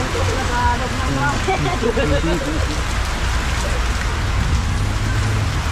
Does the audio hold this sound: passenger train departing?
no